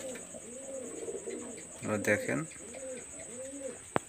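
Highflyer pigeons coo in a steady repeating rhythm of throaty phrases close by, with someone briefly speaking over them midway.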